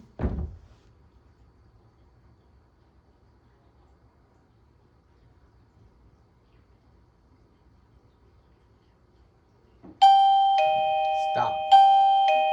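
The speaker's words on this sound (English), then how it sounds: "As soon as the chime goes off," A wireless motion sensor alarm set up by a doormat at an apartment door sounds a loud two-tone electronic chime, rung twice in quick succession after a long quiet stretch with a faint bump at the start.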